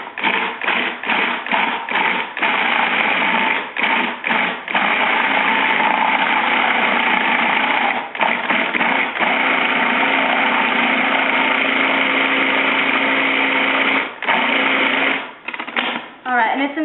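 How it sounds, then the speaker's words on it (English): A food processor whirs as it pulses room-temperature cream cheese, a steady motor drone broken by repeated short stops and restarts, loud and close, with talking over parts of it. "we're just going to pulse it until it's nice and creamy and fluffy"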